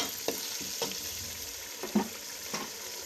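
Beef trotters (paya) frying in a pot, a low steady sizzle with several soft stirring scrapes and clinks spaced through it, close and moderately quiet, no talking.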